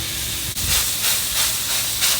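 Steak warming on a hot Blackstone griddle for tacos gives a loud, close, continuous hiss that swells and eases in gentle waves.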